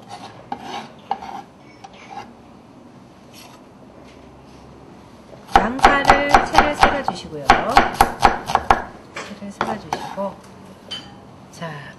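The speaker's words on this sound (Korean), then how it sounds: "적당한 크기로 썰어주세요" Quick bursts of a knife chopping boiled glass noodles on a cutting board, a steady rapid rhythm of sharp close taps after a quieter stretch with faint voice and kitchen clatter.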